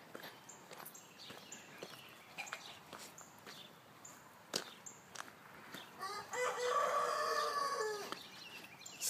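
Chickens clucking around a small farm with a rooster crowing loudly near the end, scattered clucks and soft footsteps at a moderate distance with no talking.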